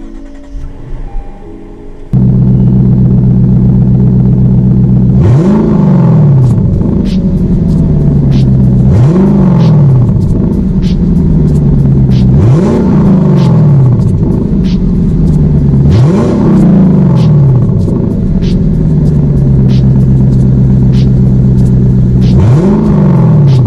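A loud Lexus LC 500 engine, unmodified, revs repeatedly in strong surges, each rising and falling, over a steady deep idle rumble, with no talking.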